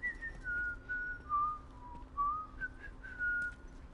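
One person whistles a wandering melody of sustained, sliding notes, fairly quiet and close, over a low background hum, with no speech.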